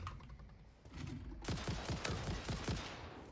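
Rapid gunfire bursts in the factory-building video game Satisfactory, a dense fusillade of sharp cracks starting abruptly and continuing steadily, fairly quiet overall with no talking.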